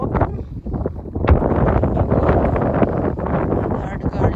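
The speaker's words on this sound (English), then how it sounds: "Today is very windy." Gusty wind on a windy day at an allotment, buffeting the microphone with a loud, rumbling roar that swells and dips throughout.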